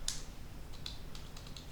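Keystrokes on a computer keyboard while entering a command on an Ubuntu server, a quiet run of separate clicks, one sharper tap at the start and then a loose, uneven rhythm of softer taps.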